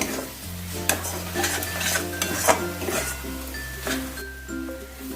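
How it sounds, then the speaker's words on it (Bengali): Prawns stir-fried with coconut masala in a pan, with a steady sizzle under repeated scraping and clinking of a spatula against the metal. "চিংড়ি মাছগুলোকে দিয়ে দিলাম চিংড়ি মাছগুলোকে দিয়েও একটু ভালো করে আমি কষিয়ে নেব"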